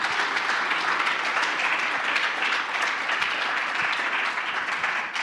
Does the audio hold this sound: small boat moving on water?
no